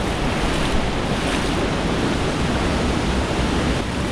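Waterfall and river water rushing in a canyon during a river trek, a loud, steady broadband roar filling the whole clip without a break.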